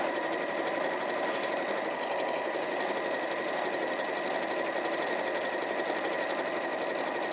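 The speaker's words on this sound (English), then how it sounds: "I'll just sew down one side" A sewing machine runs down one side of a piece of fabric, giving a steady, unbroken mechanical whirr at an even level throughout, with no voices.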